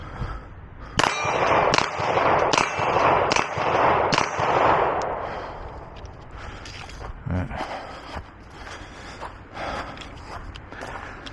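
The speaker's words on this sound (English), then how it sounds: "Left-handed shooting right there." Several sharp Glock pistol shots fired left-handed at steel targets, spaced irregularly, the first cluster loud with ringing metallic impacts, then quieter, sparser cracks later on.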